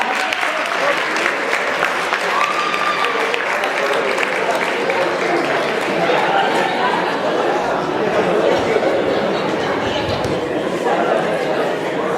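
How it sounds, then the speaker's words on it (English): Steady, loud applause from a dinner audience at a Muslim student association annual dinner, mixed with crowd chatter throughout, continuous and close. "Let's give a round of applause to Samira."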